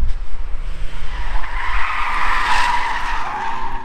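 Car on a racing circuit skids with loud tire squeal over engine roar, a sustained close screech rising and fading over a few seconds, no voices.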